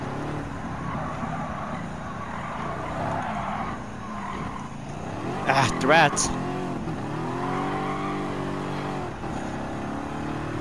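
A classic front-engine, rear-drive Ford races in Gran Turismo 7 at Grand Valley South, its engine droning and revving with tire squeal through a turn while someone talks over it.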